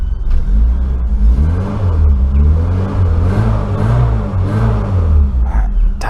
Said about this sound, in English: It does sound lovely, that engine.